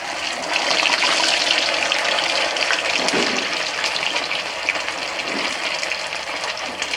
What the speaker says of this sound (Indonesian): kita coba untuk menggunakan teflon saat menggoreng pempeknya